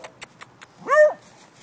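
A dog lets out a single rising and falling whimper, close and clear, after a few soft taps in an otherwise quiet space.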